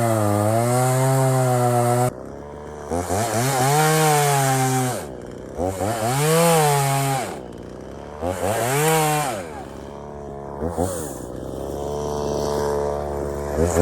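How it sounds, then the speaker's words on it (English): Chainsaws cutting logs, their engines revving up and down in long repeated surges, loud and close, with brief idling dips between cuts. "get these saws fired up."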